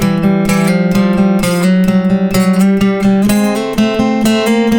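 Fast bluegrass guitar licks strung together into one continuous solo line, crisp picked notes tumbling in quick succession, close and loud without any voice.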